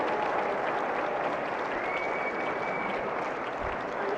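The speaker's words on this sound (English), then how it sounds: "And the big oh from the crowd." Crowd at a padel final in Espoo reacting to a rally, a dense sustained wash of applause and cheering that stays loud and steady throughout.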